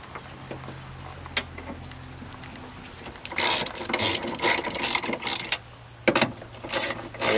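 A ratchet with a 12 mm socket snugs bolts on a Mazda Miata MX-5 convertible top frame, sounding as rapid close clicking bursts that start and stop repeatedly, over a low steady hum.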